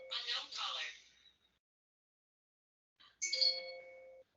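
A phone rings somewhere in the room with a short electronic chime-like trill after a pause. It is fairly faint and follows someone speaking.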